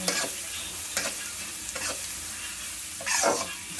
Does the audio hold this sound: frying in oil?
yes